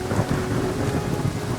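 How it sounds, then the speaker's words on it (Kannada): Monsoon rain pouring in a forest with thunder, a dense, steady hiss of rainfall under a low rolling rumble, loud and close throughout. "ಮತ್ತೆ ಅದೇ ಮಳೆ ಶುರುವಾಗಿದೆ."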